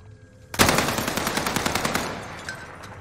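Video game gunfire in Warzone: after a short quiet moment, a sudden loud burst of rapid automatic shots rattles in a fast even rhythm for about a second and a half, then fades into echoing tail and a stray later shot.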